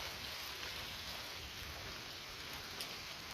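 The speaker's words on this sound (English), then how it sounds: "Started to rain again." Rain falling steadily outside a tent, a faint, even hiss of drops pattering on the surface with no talk.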